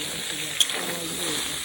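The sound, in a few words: soybean chunks frying in oil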